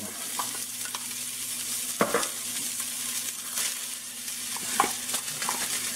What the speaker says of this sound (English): I want to cook down our onions and our apple.